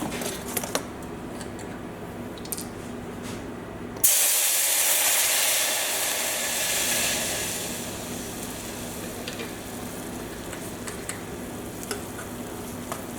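White cooking wine hits a hot pan at about four seconds, bursting into a loud, steady sizzling hiss that slowly eases over the following seconds, with quiet stirring and kitchen clatter before and after the pour.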